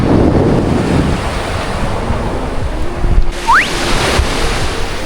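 Moderate sea waves wash onto a rocky shore in a continuous rushing surf with wind buffeting the microphone, and a brief rising whistle-like tone cuts in partway through.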